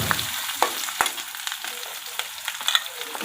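Boiled potato being sautéed with fried green chillies in hot oil while making homemade sabudana khichdi for fasting, giving a steady soft sizzle with a few sharp spatula taps, close and alone.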